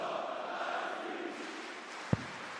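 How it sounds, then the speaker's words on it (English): Spectators at the Poland Darts Open rally behind Krzysztof Ratajski in a sustained crowd roar and cheer that fills the hall, fading slightly before a single sharp thud near the end. "The crowd once again rallying behind their man."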